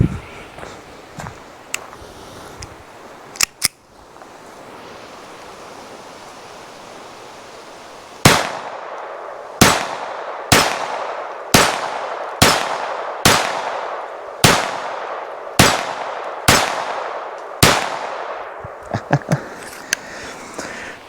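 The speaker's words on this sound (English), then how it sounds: "I'm going to go ahead, put a couple rounds on metal" Ruger SR22 .22 pistol firing at a row of steel plate targets, 11-inch down to 4-inch: two early shots, then ten sharp evenly spaced cracks, each with a short ringing tail, loud and close with no talk.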